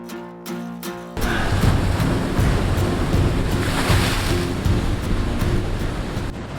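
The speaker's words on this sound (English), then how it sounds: "the waves are huge, and there's like blowholes splashing up water everywhere" Big ocean waves crash against the rugged east coast of Cozumel, where blowholes send water splashing up. The loud surf roars continuously with heavy wind buffeting after a brief quieter opening, and there is no talking.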